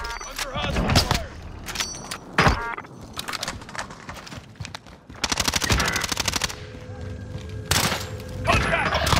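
Video game gunfire in a multiplayer shooter: rapid machine-gun bursts and single shots, loud and close, broken by short pauses, with in-game voice callouts between the volleys.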